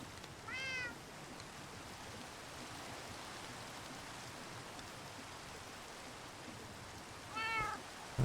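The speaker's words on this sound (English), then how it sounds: "Could she have been hearing the cat meowing" A cat meows twice, once near the start and again near the end, a short rising-falling call each time over a soft rain-like hiss, with quiet space between the two calls.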